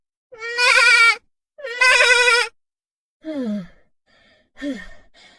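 A goat bleats in a series of loud, close calls: two long wavering bleats followed by shorter, softer ones, with no talk over them.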